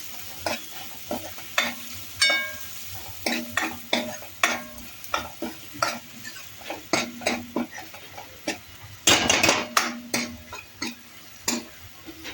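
Finely chopped onion sautéed in a pan, a steady light sizzle under many rhythmic spatula scrapes and taps against the metal, close and continuous with one louder clatter near the end.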